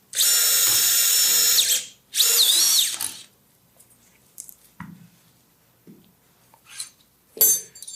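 A surgical power drill whines in two loud close bursts while placing a static screw in a tibial nail, followed by quiet clicks and handling noises from the instruments.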